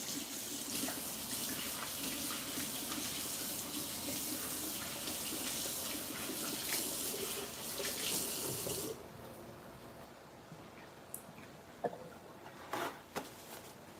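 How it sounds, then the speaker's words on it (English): A running tap gushes steadily while hands are washed beneath it for about nine seconds, then the water stops, leaving faint splashes and a few clatters in a home kitchen. "Wash my hands."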